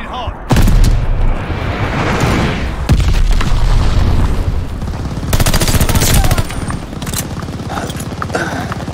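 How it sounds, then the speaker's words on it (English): Enemy glide bombs and heavy gunfire in the PC game Call of Duty: Vanguard, with repeated loud booming explosions and rapid bursts of shots over several seconds, under occasional shouted voices. "Enemy glide bomb incoming! Glide bomber assist coming in!"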